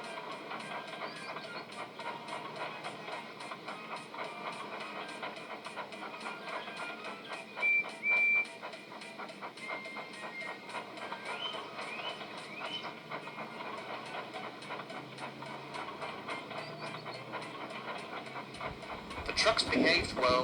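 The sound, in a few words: train running on rails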